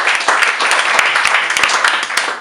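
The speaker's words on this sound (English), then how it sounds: "Let's have a massive round of applause for the fact that this has been going for a year." An audience at a comedy gig applauding, a dense, loud and steady roll of clapping from many hands that carries through the whole stretch with no talk over it.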